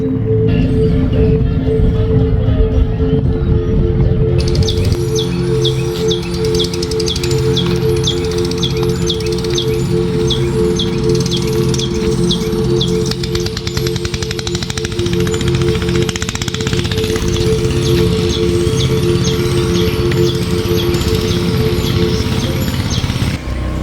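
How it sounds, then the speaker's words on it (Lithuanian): Birds sing outdoors in Krabi, Thailand, with repeated chirping calls from about five seconds on over a steady, dense background hum, fairly close and continuous with no talk. "Paukštis."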